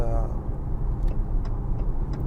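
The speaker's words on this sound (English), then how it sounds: "Again, the indicator noise itself," Turn indicator ticking inside a new Maserati GranTurismo, sharp mechanical clicks at a regular pace over car cabin rumble and road noise.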